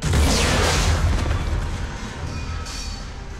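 A bomb detonates in the Mass Effect 3 video game: one loud, close, heavy boom that hits at once and then decays into a long rumbling roar.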